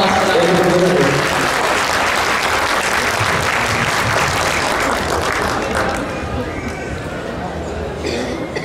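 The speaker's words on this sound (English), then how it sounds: "let's give one more round of applause for them" A dinner crowd at a community banquet applauds valedictorians, a dense, loud wash of clapping that holds steady, then thins slightly toward the end, with a few voices mixed in.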